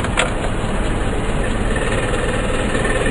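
Warmed-up car engine runs close by at a steady idle with a constant low rumble and a slight knocking texture, a brief burst near the start, and no talking.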